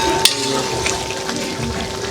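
Rooster meat braising in a pan gives a steady, close sizzle and bubble with a soft clink near the start, continuous and fairly loud throughout.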